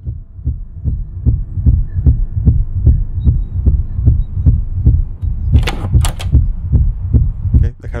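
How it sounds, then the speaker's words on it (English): A heavy, steady heartbeat pulses as a warning while a ghost hunts in the Unhaunter ghost-hunting video game, thumping in an even double rhythm under a low hum, with a brief burst of hissing interference near the end. "Okay, the heartbeat is indicating that we have been hurt."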